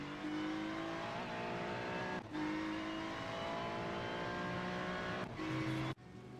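A race car in a sim racing game laps the Nürburgring GP circuit in an IMSA series event, its engine droning loud and steady with brief lift-offs for gear changes and braking before the note cuts out near the end.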